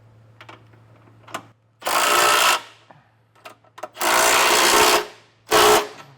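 A power tool snugs down trailer hitch bolts on a 2023 Jeep Grand Cherokee: three loud whirring bursts, the middle one longest, separated by quieter clicks and handling noise over a low steady hum.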